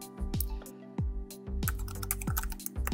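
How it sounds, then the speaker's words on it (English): Keys tapped on a computer keyboard while entering a dimension value in SOLIDWORKS CAD software, a quick irregular run of close, crisp clicks with brief pauses between bursts. "So I'll type in a value"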